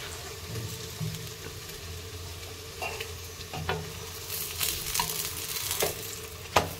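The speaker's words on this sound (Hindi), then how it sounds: "अब हम दूसरे साइड भी हल्के हाथों से प्रेस करते हुए इसे घुमाएंगे और अच्छे से पकाएंगे।" Food cooking in a pan, flipped to its second side and pressed down gently, with a steady sizzle and a few sharp scraping and tapping knocks from the turner, the last one loudest.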